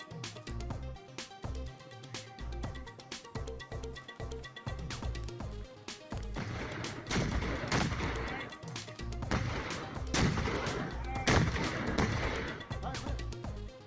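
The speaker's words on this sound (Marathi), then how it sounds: "काश्मीरमधल्या नियंत्रण रेषेवर पाकिस्तानी लष्कराकडून गोळीबार" Repeated sharp bangs of gunfire from the Pakistani army along the Line of Control in Kashmir, irregular cracks and booms that grow denser and louder in the second half over a rumbling background.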